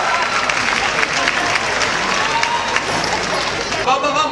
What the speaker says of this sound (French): Donc on applaudit tous les artistes que vous allez voir après dans le show La Nuit des Hits.